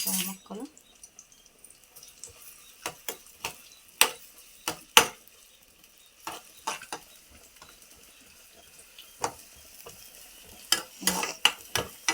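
Chopped onion pieces being stirred in a hot pan with a spatula: irregular scraping taps and clatters, some sharp and close, over a faint low crackle of frying.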